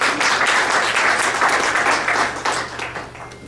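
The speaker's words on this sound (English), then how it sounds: "Applause for them." An audience applauds two ambassadors at a Cancer Care Hospital event, a burst of dense clapping from many hands that stays full for a few seconds, then thins and fades toward the end.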